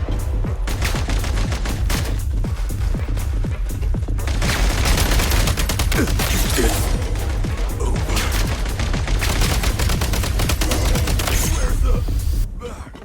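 Dense, rapid gunfire crackles continuously in the video game Genshin Impact, loud volleys layered with sharp individual shots that barely pause, with a brief lull near four seconds before the barrage resumes.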